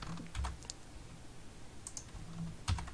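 JavaScript code typed on a computer keyboard, sparse soft key clicks and a few heavier thumps, faint and close against quiet room noise.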